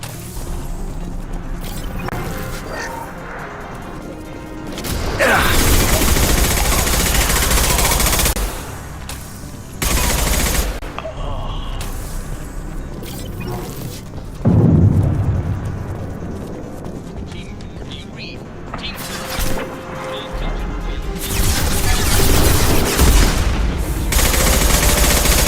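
Bursts of rapid gunfire from the video game Mass Effect 2 come in loud stretches separated by quieter lulls, with mechanical clatter and shouted voices mixed in.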